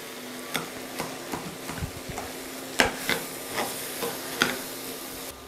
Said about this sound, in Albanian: Por ndërkohë po trazoj edhe kungullin se fillon të ngjitet.